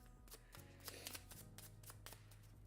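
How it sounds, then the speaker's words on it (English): Cards shuffled quietly during a board game, a steady run of soft riffling and sliding with a few crisper snaps, close by and alone, with a low hum beneath. "Quiet shuffling."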